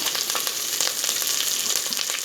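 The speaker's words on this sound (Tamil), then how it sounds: "நம்ம எடுத்து வச்ச வெங்காயம் பச்சை மிளகா கருவேப்பிலை சேர்த்துக்கிறோம்" Onion, green chilli and curry leaves sauté in a pan, a steady near sizzle of frying oil with light stirring clicks throughout, no speech.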